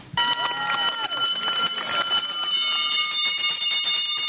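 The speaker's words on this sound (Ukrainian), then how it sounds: "Останній дзвоник пролунав" An electric school bell rings continuously and loudly, a sustained metallic clangor with voices murmuring faintly underneath.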